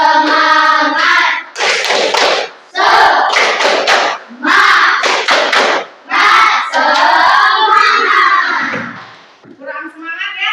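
A group of children and their teacher perform the rhythmic "tepuk semangat" clapping chant in a classroom, with bursts of sharp claps alternating with loud chanted voices in a quick repeating pattern.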